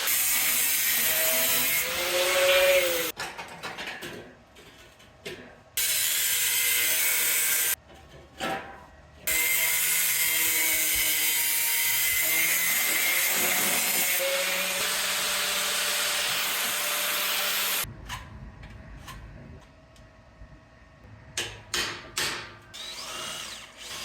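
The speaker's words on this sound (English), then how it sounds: "Now I got to cut that with a freaking angle grinder." Angle grinder cutting metal for a T-fence-post puller, long loud continuous grinding runs broken by short pauses, with no talk.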